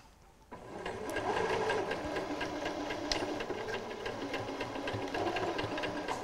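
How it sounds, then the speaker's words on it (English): A sewing machine starts up and then stitches piping in one continuous, steady run that hums evenly to the end. "I stitch to the left of the previous row of stitching."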